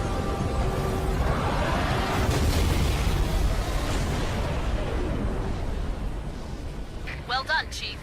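Huge Covenant Scarab explosion in Halo 3, a deep rolling boom and rumble that swells and slowly fades, with sharp synthetic game sounds near the end.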